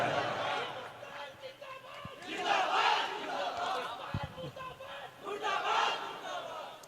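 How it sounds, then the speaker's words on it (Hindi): A crowd shouts slogans together, a dense sustained roar of many voices rising and falling in waves, with a couple of sharp knocks under it. "ये देखिए, पाकिस्तान मुर्दाबाद के नारे लगे।"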